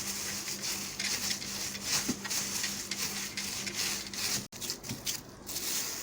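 Hands press and smooth the edges of ground meat köfte patties for grilling, making soft, close rubbing and patting sounds in a continuous quiet shuffle, with a brief pause near the end.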